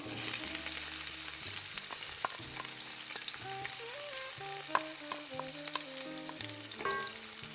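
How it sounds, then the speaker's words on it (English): Onion and green and red peppers fry in olive oil with a steady sizzle and crackle and occasional stirring scrapes, fairly close. A melodic tune plays throughout in the background. "And we are going to start frying down our vegetables."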